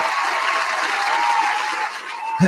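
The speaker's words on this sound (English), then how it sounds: "Let's do some full applause there." Live applause for a sports radio show discussing Big Ten predictions: a dense, steady wash of many hands clapping that fills the whole moment, then thins slightly at the end.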